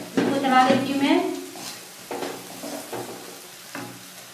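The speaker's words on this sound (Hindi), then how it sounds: "मैंने इधर आधा स्पून हल्दी डाल रही हूँ, इसको चला देती हूँ मैं" Fried onions with salt and turmeric being stirred in a pan for egg fried rice, with a soft sizzle and a few spoon scrapes; a voice talks briefly at the start.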